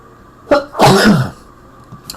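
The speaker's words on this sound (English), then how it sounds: "I'm going to sneeze." A single loud, close human sneeze with a short sharp intake and a burst of breath, followed by quiet room noise.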